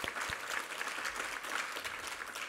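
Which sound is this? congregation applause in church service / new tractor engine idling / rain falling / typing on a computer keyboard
congregation applause in church service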